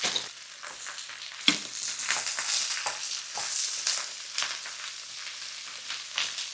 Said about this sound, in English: Now we're gonna add in the vegetables. We have a mix of carrot, celery, and onion.